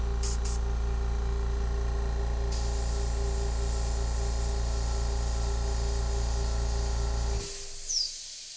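An airbrush sprays paint onto artwork, adding white highlights to an animal's eyes and veins, giving a steady close hiss with a low motor hum that runs unbroken for about seven seconds and then cuts off abruptly.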